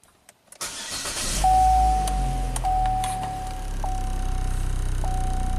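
A Chevrolet Sonic with a P0420 fault cranks and starts after a brief pause, then runs at a steady, close-up idle with a faint intermittent electronic tone over the engine hum.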